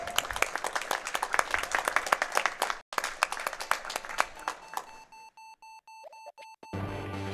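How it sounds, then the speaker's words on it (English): Applause from a live speedrunning event audience after a 100% run of Metroid: Zero Mission, steady clapping for several seconds that breaks off into quiet, followed by a series of electronic game beeps and tones. "I kind of couldn't hear my audio cue because people were clapping"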